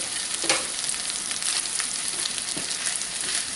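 Milk hits a hot pan of fried corn made from fresh cobs, setting off a bright, steady sizzle with a few small pops and scrapes, close and continuous.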